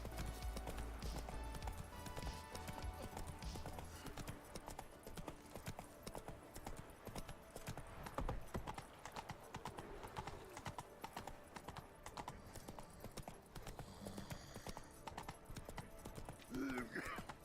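Roach the horse gallops in The Witcher 3, hooves clip-clopping in a fast continuous beat, close and moderately quiet, while a voice talks intermittently over the game sounds.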